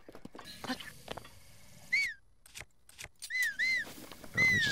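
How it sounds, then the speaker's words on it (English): Link whistles in Zelda: Breath of the Wild, several short rising-and-falling whistle notes in close succession, fairly loud and clear between bursts of game noise and movement sounds. "Let me just whistle for no reason."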